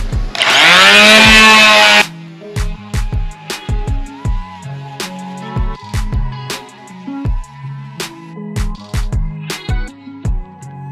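A power sander with a rough disc sands wood loudly for about two seconds and then cuts off, followed by plucked musical notes.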